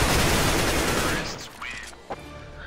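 CS:GO gunfire, a loud, dense rattle of rapid shots that fades after about a second and a half, leaving quieter game sounds and a single short sharp click.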